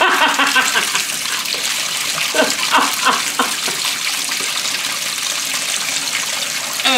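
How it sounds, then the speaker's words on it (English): A steady stream of water pours onto a simple homemade multi-function generator, making a continuous, fairly loud splashing gush with no talk over it. "So let's give it a water stream."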